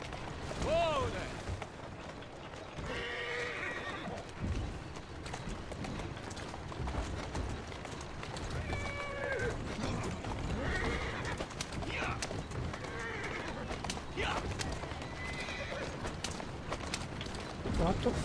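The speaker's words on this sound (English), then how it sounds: "Lot of traffic. I'm assuming horses in carriages are rather cheap." Horses pulling carriages clip-clop steadily through busy traffic, with several whinnies and neighs rising over the hoofbeats, while someone talks intermittently nearby.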